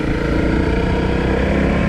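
A Honda CRF250L motorcycle engine on a narrow dirt road, a close, steady single-cylinder drone with rapid regular firing pulses and constant throttle, no voices.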